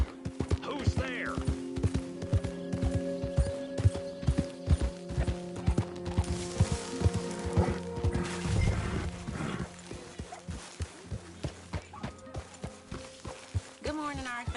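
Horse hooves in the video game Red Dead Redemption 2: a regular clip-clop of a horse walking close by, repeating through the scene alongside game music tones and a brief voice.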